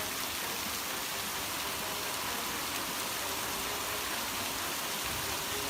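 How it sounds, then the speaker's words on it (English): Heavy rain pours steadily during Typhoon Yagi, a dense, unbroken roar of water filling the whole stretch with no voices or pauses. "The rain keeps pouring down, plunging the entire city into chaos."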